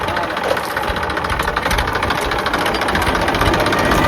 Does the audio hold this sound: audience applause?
no